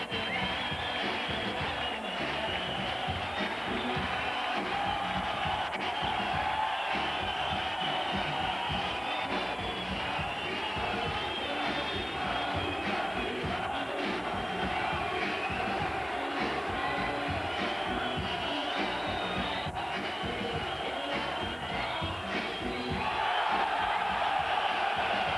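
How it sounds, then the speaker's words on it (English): A large boxing arena crowd roars and cheers continuously for Prince Naseem Hamed, a dense, sustained wash of shouting and whooping with no break. "He does know how to work a crowd."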